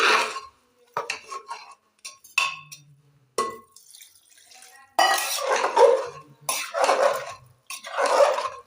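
Intermittent scraping and clinking of a spatula stirring food in a pot after soybean oil is added, the bursts of scraping coming in uneven strokes with short silent gaps between, close and fairly clear.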